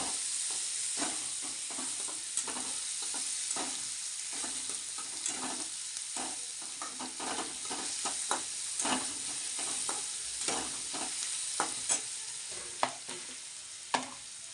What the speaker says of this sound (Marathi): आता ह्याच्यात आपण टाकणार आहे टोमॅटो एक दोन मिनटं फ्राय करून घ्यायचं